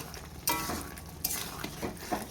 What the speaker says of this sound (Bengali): মশলা দিয়ে ভালো করে কষিয়ে নেব